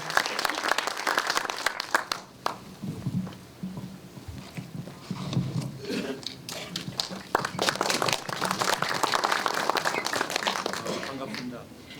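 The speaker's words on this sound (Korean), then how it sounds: "뜨거운 박수로 부탁드리겠습니다." Seminar audience in a theater applauding as a bank president is introduced to speak on the US economy, bursts of clapping rising and falling, interrupted by someone speaking over the room at intervals.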